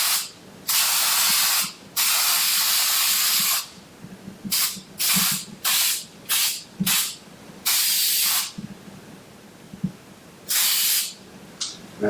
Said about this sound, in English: And you just spray it on.